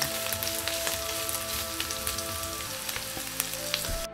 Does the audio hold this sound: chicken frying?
yes